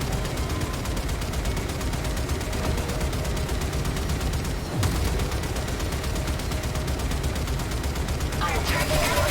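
Rapid, dense gunfire from the Warframe video game during a ship assault, a continuous loud rattle of shots throughout with a brief dip and a sharper burst near the end, voices faintly underneath.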